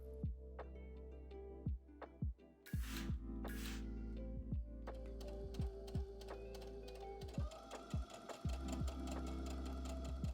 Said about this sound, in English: edge stitch the hem in place